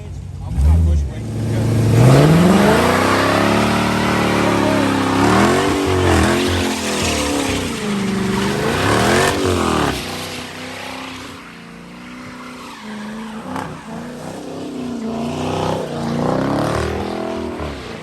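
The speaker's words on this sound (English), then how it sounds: "Get a little burnout going." A car does a burnout during donuts in the rain, its engine revving hard and wavering in pitch with tire noise, loud and close while people talk over it.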